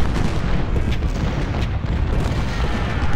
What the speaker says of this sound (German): welche Kanonen schießen denn auf McDowell?